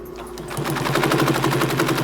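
A Singer 112W double-needle industrial sewing machine runs in reverse, starting after a short pause into a fast, even, rattling stitch rhythm heard up close.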